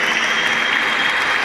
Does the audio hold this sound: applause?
yes